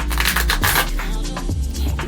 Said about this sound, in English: I'm feeling like 2 more shuffles